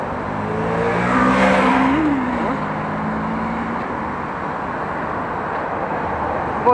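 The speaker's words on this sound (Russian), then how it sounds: "Поэтому, соответственно, много машин. Более шумно." Heavy Friday city traffic near the Bolshoy Kamenny Bridge and Sofiyskaya Embankment in Moscow, a steady roar of many cars passing close by, with one vehicle's engine note rising and falling.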